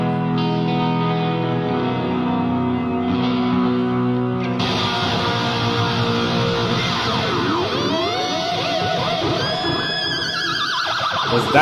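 Electric guitar squeal, a flicked G-string tapped harmonic with a whammy bar dive, loud and sustained with a shrieking pitch that swoops and warbles over distorted playing, no talk.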